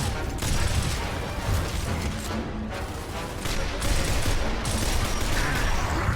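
Dense, continuous gunfire from a weapon in the video game Gears of War Reloaded, a sustained rattling barrage with booms mixed in, loud and unbroken for several seconds.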